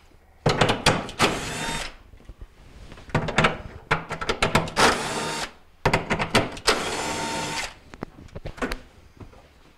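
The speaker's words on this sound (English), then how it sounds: "I'm going to be removing these four screws so I can remove the rail" A power screwdriver backs out the four screws holding the rail inside a Maytag refrigerator under repair for leaking water, heard as loud, close whirring bursts with short pauses and clicks between them.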